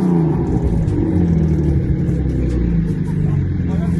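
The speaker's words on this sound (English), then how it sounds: "the sound of the BMW has a better sound than the RS3." A BMW drift car's engine rumbles and revs nearby with a low, throaty drone, steady and loud throughout, with people talking over it.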